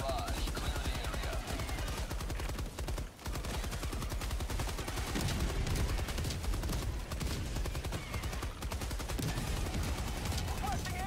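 Continuous, dense gunfire from an orbital barrage in a video game, with rapid overlapping shots and a short lull partway through.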